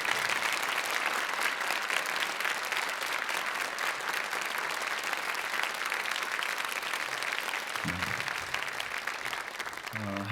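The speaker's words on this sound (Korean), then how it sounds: "우리 목사님 올라오실 때 뜨거운 박수 환영하겠습니다" A church congregation gives warm applause welcoming the pastor to the stage, loud and continuous from many hands for about eight seconds, with brief low voice sounds near the end.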